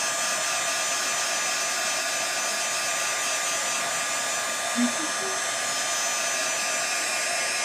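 A hair dryer blows steadily and loudly throughout, drying paint on the sides of a plastic gift box, with one brief faint knock midway and no talk.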